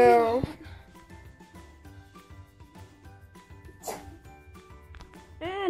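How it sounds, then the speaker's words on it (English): A loud, abrupt sneeze bursts out at the start, then muffled talking and background clatter, with a second sharp sneeze-like burst near the end. "And now I'm sneezing."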